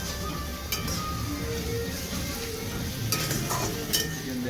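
Ginger, garlic and onion being stirred in a frying pan, a steady sizzle running throughout with a few sharp scrapes and clinks of the spoon against the pan, close and moderately loud, with no talking.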